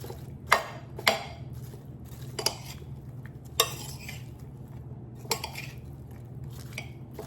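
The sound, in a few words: stirring onions with Dijon mustard in a pan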